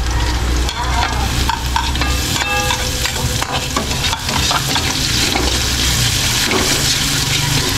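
Onion frying in a pan for ginataang kamansi, loud steady sizzle with scraping stirring strokes throughout, close and continuous, no voices.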